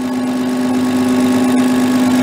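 A diesel fuel injection pump on a test bench hums steadily while its speed is raised, giving a loud, even mechanical drone with a strong steady tone and no talk.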